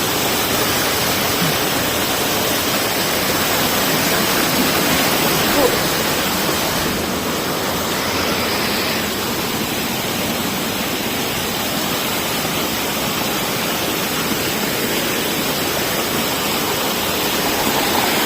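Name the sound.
Mandagong Falls waterfall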